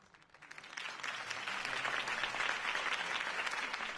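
Crowd applause in a Batman Telltale video game scene, building from a quiet start into steady, dense clapping that holds loud and unbroken to the end.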